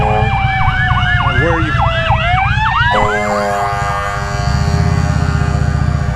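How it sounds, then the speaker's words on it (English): An ambulance siren wails loudly nearby, with rapid yelping sweeps giving way to a sustained tone, heard over steady road and engine noise with a brief word spoken. "that's the ambulance."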